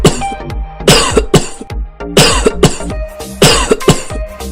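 A person coughs in repeated bursts, close and loud, with several harsh coughs grouped in three clusters and short pauses between them, no talking.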